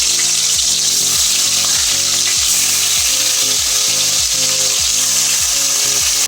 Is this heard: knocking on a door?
no